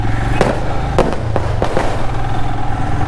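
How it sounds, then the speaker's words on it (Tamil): Firecrackers crackle and pop in sharp bursts over steady road traffic noise, several blasts fairly close with smaller cracks between them. "பட்டாசுலாம் அடிச்சு கொண்டாடுறாங்க"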